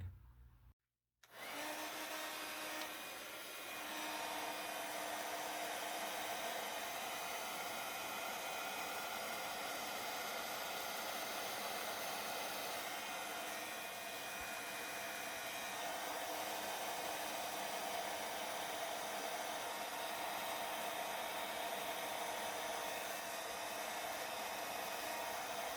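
A heat tool blows hot air to melt embossing powder on a stamped card, a steady breathy whoosh like a hair dryer running continuously for over twenty seconds after a brief click at switch-on, close and alone.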